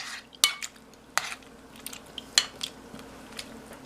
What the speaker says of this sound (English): Next, I'm going to add the clam broth. And then this you have to mix well until it's smooth.